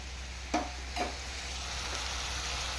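Spices cook in a frying pan at home with a faint, low sizzle, broken by two quick scrapes of a spoon stirring near the start before the hiss settles quietly.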